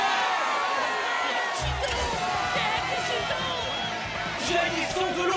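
A cartoon arena crowd cheers and whoops in a loud, steady roar that carries on without a break, with rhythmic thumps entering partway through.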